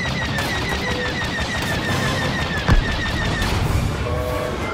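During a bombers' attack run in Star Wars Battlefront II, rapid gunfire and blaster-like bursts chatter continuously over a rumbling battle din, punctuated by a sharp explosion near the middle, with no voices.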